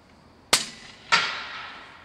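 Two sharp metallic impacts about half a second apart, each ringing briefly, as subsonic 180 grain Hornady bullets strike a distant steel target outdoors.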